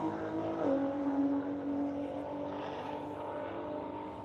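A throttle-stop Camaro race car drones past at Watkins Glen, its engine note rising then sliding down as it goes by, fading into a steady, moderately distant rumble.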